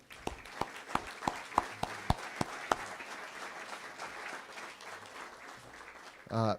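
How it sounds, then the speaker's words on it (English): Audience applause for inductees at a Wall of Pride induction event, a faint, distant spread of clapping with a few sharp individual claps standing out near the start. "I just want to give a big round of applause for all the inductees tonight"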